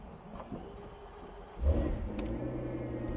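The AMG V12 in a Tramontana R fires up: quiet clicks first, then a deep rumbling catch about halfway through that settles into a low, steady idle, close and moderately loud.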